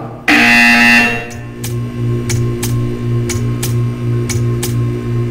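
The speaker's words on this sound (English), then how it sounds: "You will hear a buzzer. When you hear the buzzer, stare at the art." A loud, harsh buzzer blares for under a second in Portal 2, then gives way to a steady electrical hum punctuated by sharp, evenly spaced clicks.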